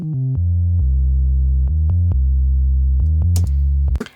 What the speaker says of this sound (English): So this is just a programmed sine wave.